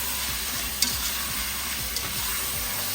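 Cleaned mutton sizzles and fries in a pan for mutton kuruma, a steady hiss with a few stirring scrapes and light clinks, close and continuous with no talking.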